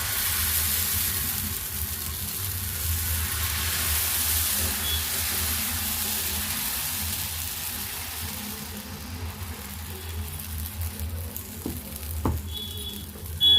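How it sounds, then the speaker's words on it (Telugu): Mung bean pesarattu batter sizzles steadily on a hot pan, a dense continuous frying hiss with light spattering, loud at first and easing slightly, with a faint clink near the end. "ఇప్పుడు వేసుకుందాం పెసరట్టు."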